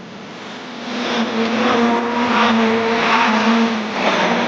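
Hot rod race cars racing in a grand final at Arlington Stadium, a loud continuous engine drone that swells and holds as the cars pass fairly close, with no talk.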